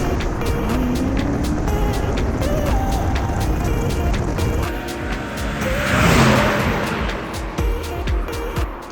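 A BMW E92 M3 engine drones and revs while driving, rising and swelling in pitch toward the middle before settling, loud and close inside the car with road noise underneath.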